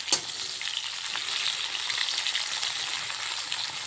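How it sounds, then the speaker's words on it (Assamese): Carrots and capsicum stir-fry in a hot wok, a soft continuous sizzle with a brief scrape of the spatula at the start and no voices. "এতিয়া আকৌ ভালদৰে লৰাই ল'ম।"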